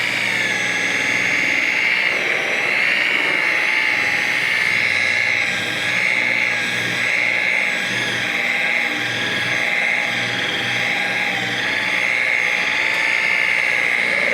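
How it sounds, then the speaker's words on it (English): A cheap Harbor Freight buffer spinning a pad on a car panel with heavily damaged paint, a loud, close, continuous electric whine with a steady drone underneath, unbroken throughout. "Got my cheap Harbor Freight buffer."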